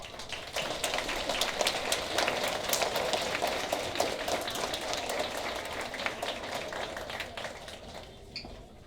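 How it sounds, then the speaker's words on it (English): Sustained applause from a school audience at a second grade awards day, dense steady clapping holding throughout with no gaps, fading slightly toward the end. "Let's give this group a big round of applause."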